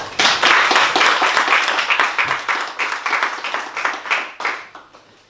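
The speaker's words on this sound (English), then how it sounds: "can everyone give a very warm round of applause for Kath Shackleton and Zane Whittingham." A crowd applauds steadily, dense clapping filling the room and gradually thinning toward the end.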